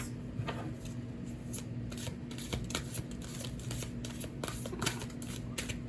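A tarot card deck being shuffled by hand, a steady run of crisp riffling and flicking bursts filling the whole stretch at close range, with no voices over it.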